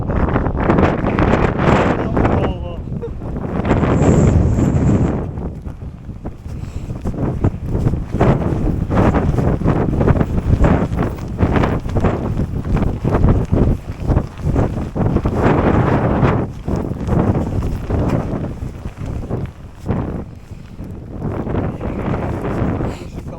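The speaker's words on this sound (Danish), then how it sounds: "hvis det blæser mere og mere, jo højere op vi kommer" Strong wind buffets the microphone high on a mountain, a continuous loud roar with gusting surges and no letup for the whole stretch.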